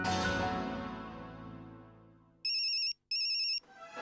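A telephone ringtone sounds twice in short electronic bursts after a decaying musical chord, with a brief gap between the rings and quieter sound following.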